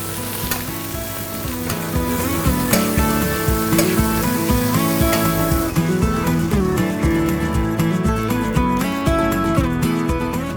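Beef sizzling steadily in a hot pan as it is basted with fat, a continuous bright crackle sitting under loud background music with no talk.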